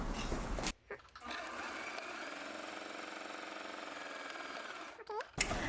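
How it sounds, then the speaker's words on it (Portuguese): A sewing machine runs a continuous seam at a steady, even hum for about four seconds, close and clear, with short stops and handling sounds at the start and end. "Então, eu vou costurar."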